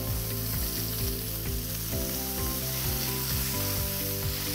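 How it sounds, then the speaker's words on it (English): Scallops sear in a hot pan with a continuous close sizzle, heard beneath steady background music. "it'll be about a minute and a half to sear them on this side"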